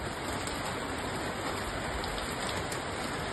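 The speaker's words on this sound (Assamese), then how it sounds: "ৰাতিপুৱা বৰষুণ 2 মিনিটমান এৰিছিলে, তো ভাবিছিলোঁ মনটো ভাল লাগিছিলে, কিন্তু এতিয়া আকৌ দি আছে।" Steady rain falls in a constant, dense hiss on surrounding surfaces, close and even with no pauses.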